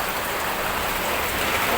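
Heavy rain pours down in Bhubaneswar, a dense and loud unbroken roar of drops hitting surfaces, with no gaps or voices.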